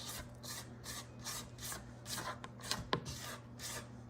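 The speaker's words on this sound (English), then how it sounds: "let's stop our mixer and just scrape down the sides to make sure there's nothing in the bottom" A spatula scraping down the sides of a cake batter mixing bowl with the mixer stopped: a series of about nine quiet, regular rubbing strokes, close and soft, with a low steady hum beneath and a small knock near the end.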